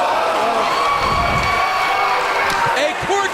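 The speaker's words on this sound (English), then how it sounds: "And listen to the crowd." A wrestling arena crowd cheers in a steady, loud roar that fills the whole moment, with shouts rising and falling under a commentator's talk.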